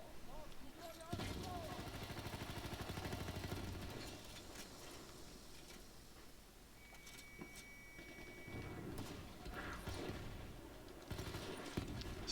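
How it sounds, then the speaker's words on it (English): Mortar rounds and gunfire in the Battlefield 1 video game land as a run of booming impacts and crackling shots, with someone talking over the battle noise throughout. "Someone's got a mortar."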